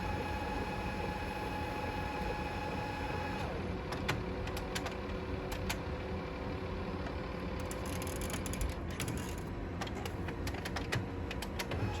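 An HP CP3525 colour laser printer running and feeding paper through while printing: a steady mechanical whir and hum with a pitch shift partway, then a series of rapid clicking, ticking transport sounds, close and continuous.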